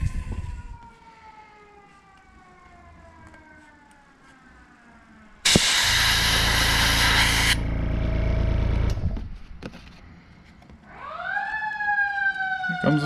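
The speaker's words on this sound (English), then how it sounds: "Here comes the fire trucks." Fire truck sirens wail past from a nearby fire station down the street, rising and falling tones sweeping across the clip with a loud blaring horn burst in the middle before the sirens fade and return.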